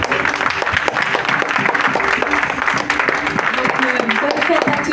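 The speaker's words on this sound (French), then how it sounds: "Applaudissez les petits-enfants." A church congregation at a Mother's Day service applauds the grandchildren with steady, dense clapping from many hands throughout, while a voice speaks over the applause.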